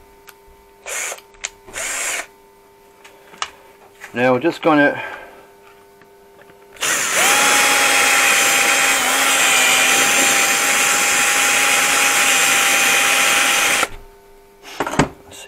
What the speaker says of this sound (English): I'm probably going to have to bore it out a small bit